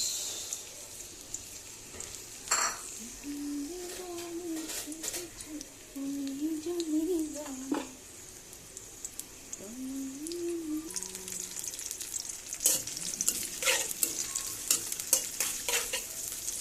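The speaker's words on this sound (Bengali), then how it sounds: "তেল দিয়ে দিয়েছি, এখন চলে যাবে পেঁয়াজ।" Onions frying in oil for a dried-fish dish: a close, hissing sizzle with scraping stirs against the pan and several sharp clinks. A faint voice speaks briefly partway through.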